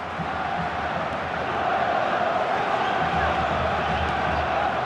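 A large stadium crowd in the FIFA 12 video game match Uruguay vs Italy roars and cheers steadily throughout, a dense continuous wall of noise that swells slightly louder midway.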